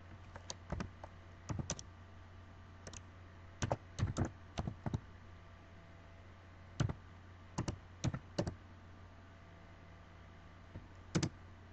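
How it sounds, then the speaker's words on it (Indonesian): Bursts of keystrokes on a computer keyboard while Linux terminal commands are typed, in short clustered runs separated by pauses, close and fairly quiet over a steady low hum. "Kemudian kita ketikkan ls, kemudian enter."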